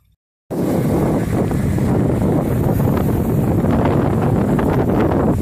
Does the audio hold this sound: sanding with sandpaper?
no